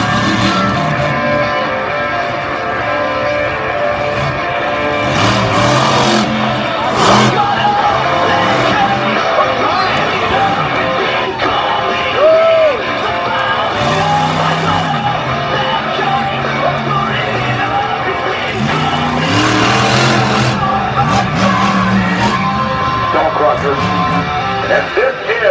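Monster truck engines at a back-to-school freestyle show roar and rise and fall in pitch through repeated revs, under a commentator's talk over the loudspeaker and crowd noise.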